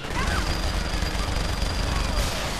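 Sustained gunfire from a weapon in the video game Saints Row: The Third, a dense continuous clatter of rapid shots that is loud and close throughout, with game noise layered underneath.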